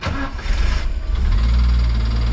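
A car engine cranks and catches, then runs at a rough idle with a rhythmic bearing knock thudding beneath the motor's drone.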